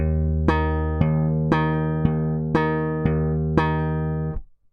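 Seven short, evenly spaced slap bass notes with a sustained tone between, played alone at a steady rhythm before cutting off at the end.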